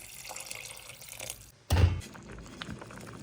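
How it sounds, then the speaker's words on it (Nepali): Water pours briefly into a pot of thukpa with a sudden gurgling splash, after a quieter stretch of faint kitchen dripping. "अनि त्यसपछि मजाले पानी हाले"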